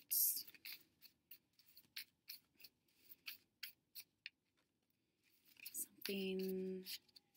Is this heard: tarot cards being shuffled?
yes